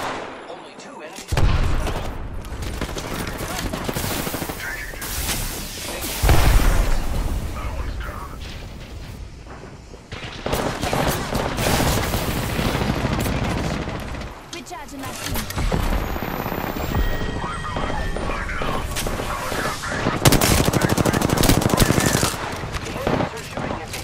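Gunfire from Apex Legends, with repeated bursts of automatic fire and single loud shots coming in waves over about twenty seconds, mixed with mechanical game sounds and occasional voice callouts.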